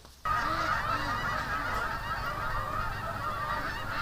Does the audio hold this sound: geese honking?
yes